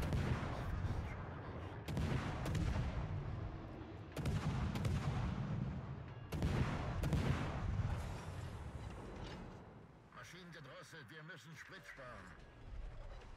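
Naval guns in World of Warships fire on the Friedrich. Heavy booming salvos land roughly every two seconds, loud and reverberant, and a voice talks over them.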